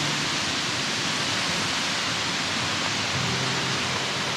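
Yasu Falls in Akita heard from its base, a dense, even roar of falling water filling the whole stretch at steady loudness.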